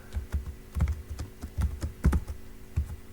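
Clicky keystrokes on a computer keyboard while entering text with an Urdu phonetic layout, an irregular run of close, crisp taps with short pauses between bursts, no voices.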